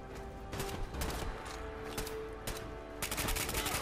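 Gunfire in Fallout 4 during a headshot kill, a few sharp shots and short bursts at moderate level, fairly quiet overall with game ambience between them.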